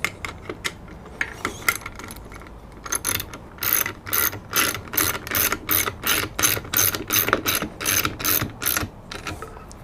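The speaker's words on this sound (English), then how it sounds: "If you don't have a ratchet set, an adjustable wrench or two will really do wonders here." A ratchet wrench turning a bolt while assembling a homemade tomahawk, giving a run of sharp, rapid clicking bursts that settle into a regular back-and-forth rhythm, close and fairly loud, with no talking.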